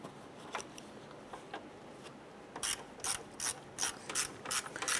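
A ratchet snugging down the cooling fan mounting screws during a radiator replacement on a 2007-2012 Nissan Versa, a few soft clicks followed by a close, loud burst of rapid clicking strokes.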